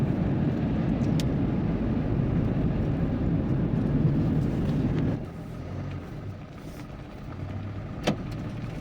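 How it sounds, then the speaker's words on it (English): Continuous rushing road and wind noise from a car driving with the windows open on a road trip through France's Loire region, steady and loud, easing slightly toward the end, with a few faint clicks. "I've been driving with the windows open for a little bit."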